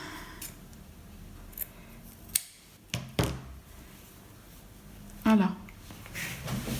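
Scissors notch the corners of a sewn fabric bag lining, giving a few crisp snips close by over a quiet room background, with a louder thump of handling near the end.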